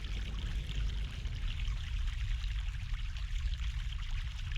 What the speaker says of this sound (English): Fresh mountain water.